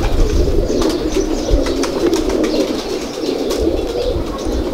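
Ferozpuri pigeons coo softly and repeatedly over a rustling background, with occasional faint wing flutters and light clicks; no talking.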